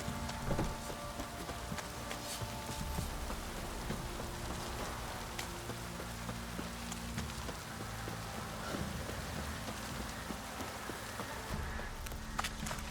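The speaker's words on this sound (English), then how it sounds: "Puffbows have brought us rain." Steady rain in the video game The Witcher 3 patters and hisses continuously, dense and even, with faint scattered thumps in the background and no talking.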